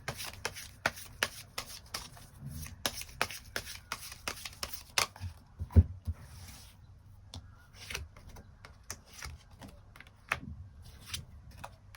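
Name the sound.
shuffling and drawing tarot cards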